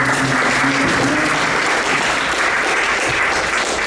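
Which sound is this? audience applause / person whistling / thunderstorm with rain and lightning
audience applause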